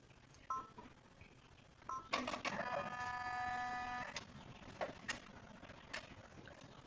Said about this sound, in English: it's going to stitch exactly right on top of it when I hit go